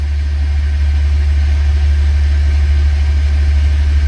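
A steady small engine, a pony motor, idles close by, a constant low rumble with an even mechanical hum and no change in pace, charging batteries to 14 volts.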